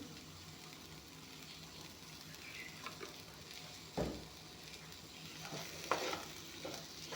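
Ground spices with dried chilli powder and salt fry in hot oil in a pan, a soft, steady sizzle with occasional scraping knocks from a stirring spoon, close and without voices.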